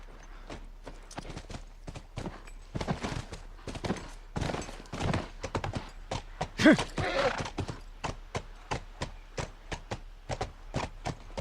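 Horse hooves clip-clop in a steady run of sharp, close knocks through The Last of Us video game, with a brief whinny-like burst midway and no talking.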